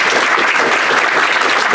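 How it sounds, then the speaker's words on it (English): A Veterans Day audience in Scituate applauds a woman Marine, producing a dense, loud, steady wash of clapping from many hands throughout. "I'd like to hear you all applaud this lady."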